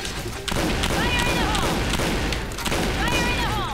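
Gunfire in the shooter game Point Blank, with loud, heavy repeated shots and thuds packed closely together, and brief bits of tonal game sound and voice mixed in.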